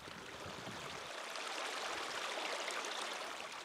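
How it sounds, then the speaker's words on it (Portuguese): Flowing stream water rushes steadily and evenly outdoors, a soft continuous wash of trickling and splashing that stays fairly faint throughout, with no voices. "A água fala muito lindo."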